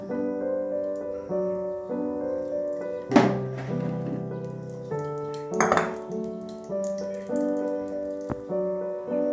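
A metal kadai is set on a gas stove and handled, giving clanks and knocks, with two sharp metallic clatters ringing out over a steady background hum.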